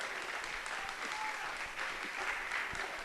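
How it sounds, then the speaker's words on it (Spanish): A congregation claps steadily throughout a Spanish-language church worship service, a dense continuous wash of applause with a few faint voices mixed in. "Aplaudo lo que Él se lo merece."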